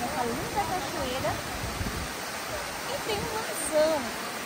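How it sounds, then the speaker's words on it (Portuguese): A waterfall at Iporanga beach gives a constant broad rushing hiss that fills the whole stretch, with a person talking over the steady roar of the falling water. "Porque você tem essa linda cachoeira."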